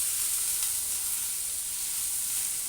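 Food sizzling in a frying pan as it is stirred, a steady soft hiss with no talking.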